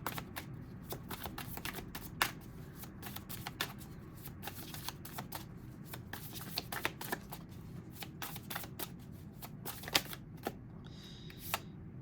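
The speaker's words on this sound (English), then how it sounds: "I'm just going to pull one more card on that one." Tarot cards being shuffled and drawn, with dense, rapid riffling and soft slapping clicks in a quiet room, fairly faint and steady throughout.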